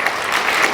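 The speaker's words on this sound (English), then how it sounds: "you should applaud him as well" Audience clapping in a dense, steady burst of applause, close and loud throughout the short moment.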